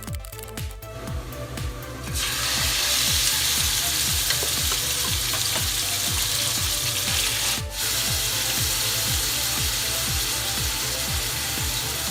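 Loud, steady sizzling of sausage and bacon stir-frying in a pan, with a rhythmic scraping of a utensil stirring and tossing throughout.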